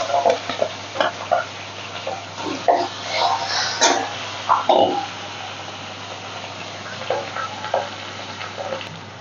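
Katla fish head frying in oil in a pan, giving a steady close sizzle with scattered pops and scraping stirs throughout, loudest in bursts near the middle.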